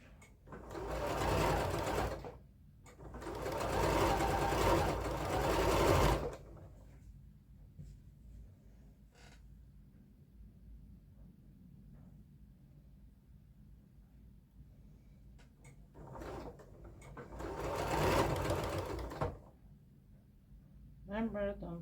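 Sewing machine joining quilt pieces in bursts: two runs of rapid, steady stitching near the start, a long quiet gap with faint handling, then another burst later, all close by, with a voice speaking during the stitching.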